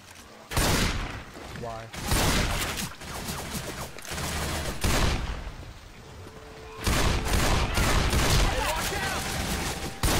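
Rapid shotgun blasts in the video game Left 4 Dead 2 fired at a fallen survivor on expert difficulty, loud booming shots repeating in a dense barrage with game clatter and no talk over them.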